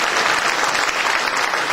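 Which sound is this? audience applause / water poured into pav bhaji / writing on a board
audience applause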